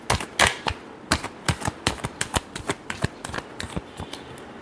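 A deck of tarot cards is shuffled in a quick run of crisp, papery flicks and slaps, close and fairly quiet, coming in uneven bursts with no one talking.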